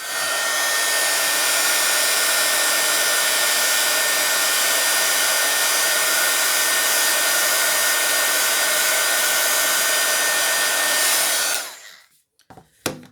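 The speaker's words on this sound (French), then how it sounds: "on va chauffer tout ça avec le pistolet" Heat gun blowing steadily on a paper craft mini-album with gold snowflake embossing, a loud continuous hiss that cuts off abruptly near the end, followed by a few faint handling sounds.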